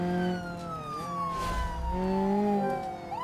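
A police car siren wails in the BeamNG.drive driving game, a sustained tone that slides downward and then swoops back up, fairly loud and steady with a low engine rumble beneath it.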